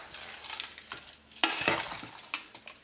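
A utensil stirs salt into a beef terrine marinade in a bowl, giving light irregular scraping and clinking strokes, close and fairly quiet.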